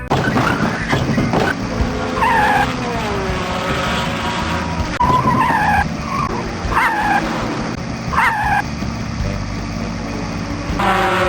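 Cartoon race cars in the Putt-Putt racing game skid and squeal repeatedly, loud tire screeches rising and falling over engine noise and background music.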